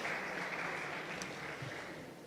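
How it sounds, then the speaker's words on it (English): An audience at a summit-stage panel applauds a panelist, a faint, even wash of clapping from a crowd that holds steady before easing slightly toward the end. "Big applause for Gabriela, please."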